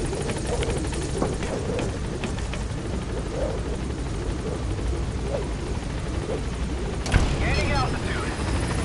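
A helicopter drones steadily as it gains altitude in Metal Gear Solid V, a dense rumbling rotor roar that holds at a constant level, with game sounds and voices over it.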